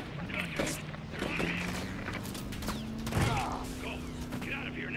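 Heavy gunfire rattles in the video game Call of Duty: Modern Warfare III, with mechanical clatter and a louder blast among the shots, mixed with talk and a low droning tone.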